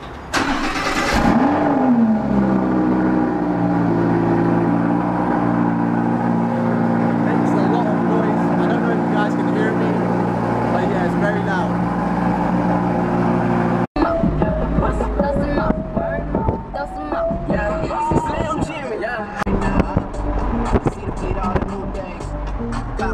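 Lamborghini engine cranking and firing up with a sharp burst, then settling into a loud, steady idle before the scene cuts to the car driving, with people talking over the later engine noise.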